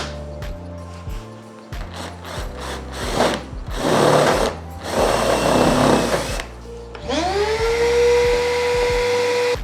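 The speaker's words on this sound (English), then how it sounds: "when I'm gonna be drilling into something." Power drill bores into a car body through painter's tape while fitting Quik Latch hood pins on an AE86 restomod, giving short stuttering whirs, then a sustained grinding run and a rising high-pitched spin near the end.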